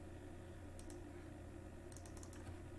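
Keys on a computer keyboard are pressed for Control C, faint quick clicks, a single pair early and then a short burst of several taps, over a quiet room hum.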